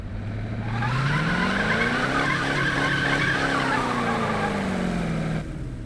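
Car engine revving hard with long screeching tire skid in the racing video game Need for Speed 2015, a sustained loud squeal whose pitch bends up and back down, continuous and close.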